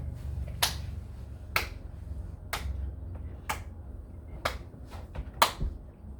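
Slow clapping at a children's reading session, six or seven sharp, isolated claps spaced about a second apart, close and clear against a quiet room.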